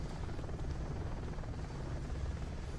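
The helicopter Ship Chopper 1 in the game Planet Explorers gives a steady, low rotor drone and rumble, continuous and moderately loud, with no voices over it.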